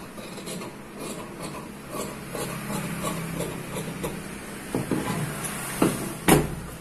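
Scissors cutting shirt fabric, a close, fairly loud rasping and scraping of blades through cloth, continuous and uneven with a few sharper snips near the end, and no talk.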